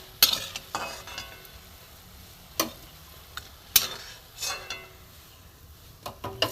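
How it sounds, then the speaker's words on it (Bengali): Drumstick leaf fritters (bora) frying in oil, with a low steady sizzle broken by several sharp clinks and scrapes of a utensil against the pan, close and fairly quiet. "সজনে পাতার বড়া এপিট ওপিট করে আমি ভেজে নিয়েছি"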